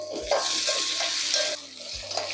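Small shallots and garlic sautéing in a pan with turmeric and salt for a Tamil salmon fish curry, close stirring scrapes and soft sizzle with a couple of low knocks against the pan.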